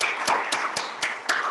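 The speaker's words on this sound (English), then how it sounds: "let me give you my clap over here" A single person claps hands slowly and steadily at a panel event, about six sharp claps spaced evenly over a continuous background of room noise, fairly close.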